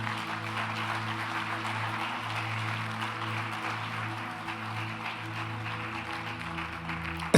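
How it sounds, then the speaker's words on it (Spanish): Congregation applauding during a church service, a fairly soft wash of many hands clapping together over a sustained low musical drone of keyboard tones, steady for several seconds with a brief louder bump at the very end. "Dele otro aplauso al Señor"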